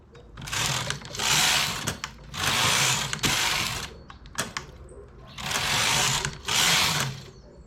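A knitting machine working baby trousers knitted sideways, the carriage sweeping back and forth in four loud, rushing, clattering passes with short mechanical clicks and pauses between them, close up.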